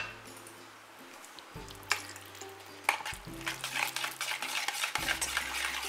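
A whisk beats a mango yogurt batter with condensed milk in a bowl, giving a close, rapid scraping and clinking that grows busier toward the end, with a low hum beneath and no talk.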